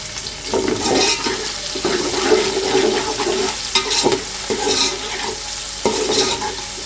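Bell pepper and carrot stir-frying in a pan for restaurant-style vegetable fried rice, a steady close sizzle with repeated scraping and stirring bursts throughout, no talking.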